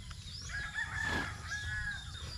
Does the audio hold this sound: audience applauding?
no